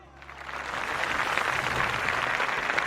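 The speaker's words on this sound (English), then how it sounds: "Oh, the applause. I've not heard that before." Crowd applause from a video game election speech in Tropico 3, a dense, steady clapping wash that swells slightly over three seconds, moderately loud with no voices.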